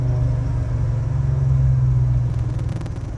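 A big-block engine in a 1967 Chevelle idles with a deep, steady rumble, close by and smooth, with some light ticking near the end.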